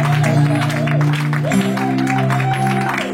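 A church congregation applauds and cheers in praise, dense clapping and voices layered over sustained music throughout the short stretch, loud and close.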